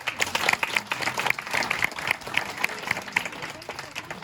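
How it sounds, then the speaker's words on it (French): A comedy show audience in Montreal claps steadily for several seconds, with voices carrying over the applause. "on applaudit très fort Samuel"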